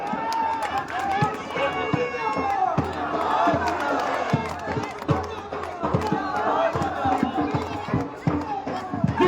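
A huge crowd of over 50,000 at a political rally on an open ground, roaring and chanting slogans, dense and continuous, with an amplified speaker talking over the noise.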